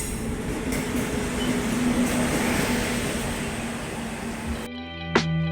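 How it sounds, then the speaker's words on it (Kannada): A train rolling into a station with a heavy, continuous rumble and clatter, loud and near, that cuts off abruptly and gives way to music with a short sharp hit. "ಅಷ್ಟ್ರೊಳಗೆ ಟ್ರೈನ್ ಬಂದ ಬಿಡ್ತು."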